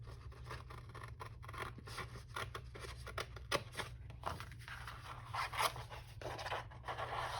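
Paper being cut with scissors during a papercraft folio project, a steady run of soft snipping and rasping strokes close to the microphone over a low hum, with no talk.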